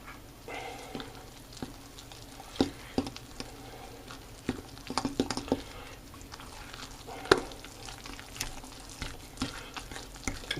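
A fork stirs buttermilk pancake batter in a bowl, with soft irregular scraping and light wet patter, close and fairly quiet, with no talking.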